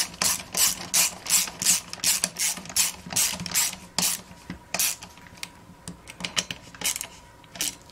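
Rapid clicking bursts of a ratchet wrench working bolts on a Craftsman chainsaw, close and crisp, with a few pauses and lighter metallic taps toward the end.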